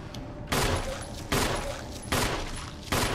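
Gunfire in the Resident Evil Remake game: four heavy shots spaced roughly evenly apart, each a loud broadband burst that lingers briefly, standing out clearly with no talking over them.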